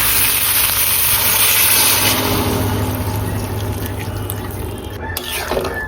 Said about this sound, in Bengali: সে গরম পানিটা আমি দিয়ে দিব।